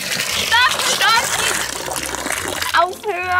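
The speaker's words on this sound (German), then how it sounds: "Dein Eimer läuft gleich über." Water gushes and splashes as it spills over the brim of a horse's water bucket in a stable, running continuously while excited voices talk loudly over it.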